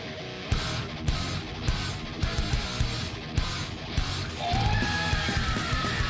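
A heavy metal song plays loudly with pounding drums and distorted guitars, and a sustained high vocal scream rises in the second half over the dense music.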